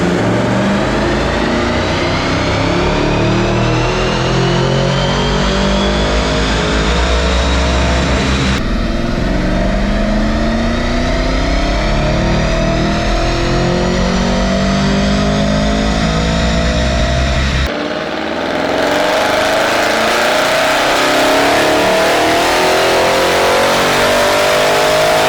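An Audi RS6 fitted with an E-Venturi intake revs hard on a dyno in three long, loud pulls, each climbing steadily in pitch before a brief break, with no voices over the engine.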